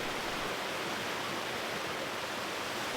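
A tiny spring creek flowing over fragile tufa formations among melting snow, heard as a faint, steady, even rush of water with no voices.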